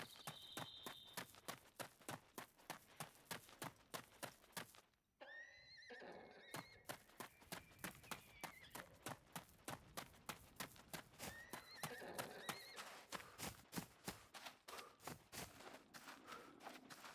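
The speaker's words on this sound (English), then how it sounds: "I hear a horse." A horse in the survival video game SCUM neighs and whinnies several times over a steady, rhythmic clip-clop of hooves, with the galloping footfalls loud and regular throughout and the calls rising above them.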